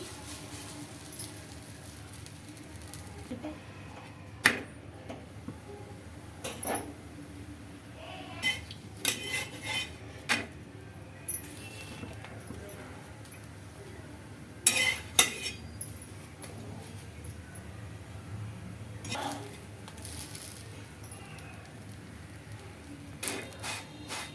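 Cutlery and plates clink and clatter in a home kitchen while coconut rotis cook on a hot pan. Sharp, scattered metallic knocks and taps come at irregular intervals over a quiet background.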